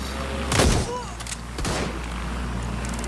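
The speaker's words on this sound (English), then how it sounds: "Gunfire!" A couple of loud gunshot blasts with booming thuds in the video game Watch Dogs: Legion, the first sharpest, over a steady rumbling background.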